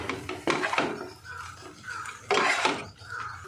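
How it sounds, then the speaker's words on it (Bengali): A spoon stirring chopped coriander into oats paneer pilaf in a pan, with close, loud scraping bursts against the metal separated by quieter soft shuffling. "ধনেপাতা মিশিয়ে নিয়েছি।"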